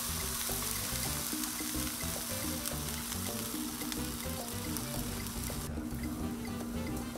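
Onions steam and sizzle on a Blackstone 22-inch griddle with added water, a steady, dense hiss running throughout under a faint low hum.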